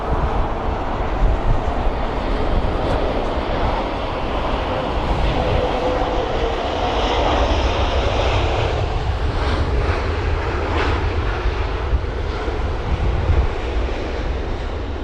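An Airbus A320-200 lands at London Heathrow in gusty 16 to 18 knot winds, its engines making a broad, steady roar that swells and rushes past while strong wind buffets the scene.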